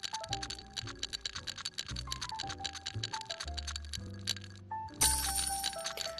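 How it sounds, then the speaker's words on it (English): A spoon stirs a drink in the video game Rec Room, rapid light ticking and clinking taps in a busy run over electronic tones, ending in a bright chime burst, no talk. "If this spoon right here does not work and you do not hear the stirring noise"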